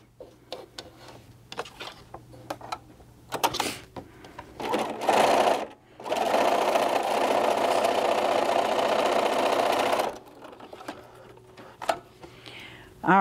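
A sewing machine stitches a fabric seam on a knot bag in short bursts, then one long steady run of about four seconds, close and clear, with a voice talking between bursts.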